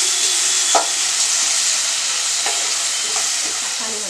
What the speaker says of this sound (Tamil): இப்போ ரெண்டு தக்காளி வந்து சாப் பண்ணி வச்சுருக்கேன், அதையும் போட்டு நல்லா வந்து மசிஞ்ச மசீர வரைக்கும் வந்து நம்ம வதக்கிக்கலாம்